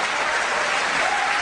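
A church congregation claps together in a dense, steady wash of applause, full and even throughout the short moment with no voices standing out.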